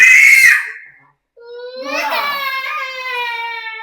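A young girl who was being swung on a swing cries loudly, after a short shout and a gap, into a sustained wailing sob close to the listener.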